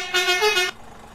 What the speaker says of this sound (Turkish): Bu nasıl bir korna? Süper bir korna.